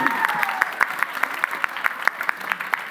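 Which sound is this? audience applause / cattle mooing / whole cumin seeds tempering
audience applause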